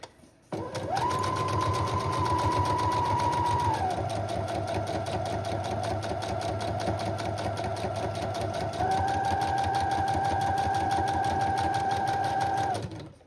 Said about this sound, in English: I also like to sew around the flap top